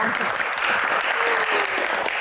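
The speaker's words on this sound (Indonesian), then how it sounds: "Tepuk tangan dong." An audience at a Q&A show claps together, a loud, close, continuous burst of applause lasting a couple of seconds with crowd murmur faintly mixed in.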